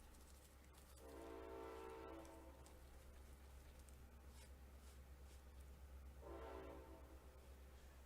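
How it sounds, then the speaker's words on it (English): A train passes outside, its horn sounding twice in long harmonic blasts a few seconds apart over a low steady rumble, muffled and moderately distant. "the train was loud today."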